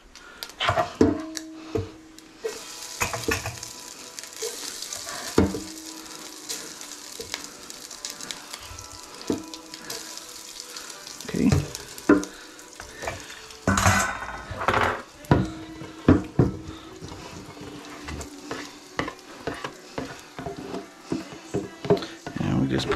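Food sizzling and frying in a pan while a utensil scrapes it back into place, with scattered clinks and scrapes of cookware over a steady hiss, part of a Christmas breakfast, under a person talking.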